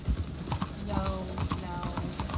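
Horse hooves clip-clop in quick, uneven beats in the RedM Western roleplay game, near and fairly loud, while a voice speaks briefly over them.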